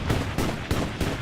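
Heavy tank cannons firing in Hell Let Loose during a battle for a church in Carentan town center, four loud booming blasts in slow regular succession with rumbling tails, very close.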